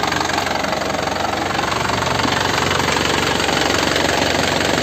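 A 2010 Isuzu Panther LS Turbo diesel engine idles steadily, a dense continuous clatter with a fine rhythmic knock that stays even and close, and nobody talks.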